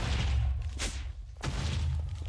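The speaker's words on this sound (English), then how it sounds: "What was that explosion?" Explosions in a video game: two brief muffled booms a little over half a second apart, rising over a low rumbling background without any talk.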